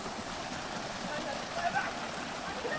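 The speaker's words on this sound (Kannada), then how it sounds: "ಬಟ್ ವಾಟರ್ ಫಾಲ್ಸ್ ಅಂತೂ ಮಾತ್ರ ಸಕ್ಕತ್ತಾಗಿದೆ ಇವರು" A waterfall on the Shivapuri trek in Nepal gives a steady, unbroken rushing roar that stays at an even level throughout.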